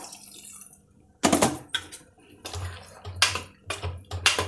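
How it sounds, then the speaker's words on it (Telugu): Water splashes and trickles as it is poured into a prawn and potato curry, coming in several close, uneven bursts with wet stirring noises and no voices. "కొంచెం వాటర్ పోస్తున్నాను"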